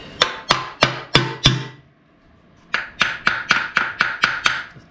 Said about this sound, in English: And then we'll take our hammer